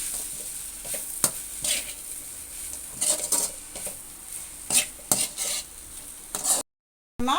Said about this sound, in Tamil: பெப்பர் பவுட்ரு போட்டுக்கிறேன். நல்லா மிக்ஸ் பண்ணி விட்டுக்கலாம்.